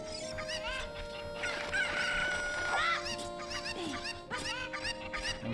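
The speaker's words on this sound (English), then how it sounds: "I'm commandeering one of your chickens." Chickens in the video game Zelda: Ocarina of Time cluck and squawk repeatedly in a busy, overlapping flurry with a crow-like call, fairly loud and close over a steady background of game music and ambience.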